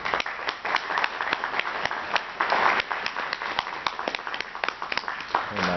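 At a university law debate, an audience claps in scattered, uneven applause, with individual claps standing out and some voices under it.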